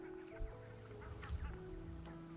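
Faint, distant greylag goose honks come in a few short calls over a steady low background hum.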